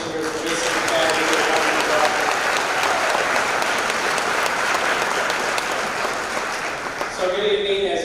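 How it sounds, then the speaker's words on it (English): A big round of applause from the audience for a school's chamber singers at a senior awards night: dense, sustained clapping across the hall, easing slightly near the end as a voice begins. "please let's give another big round of applause for our Chamber Singers for Basic Academy"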